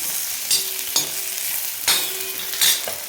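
Whole spices with shahi jeera and cardamom sizzle steadily in a pan, marked by four distinct scraping stirs of a spatula at roughly even intervals, close and clear with no talk.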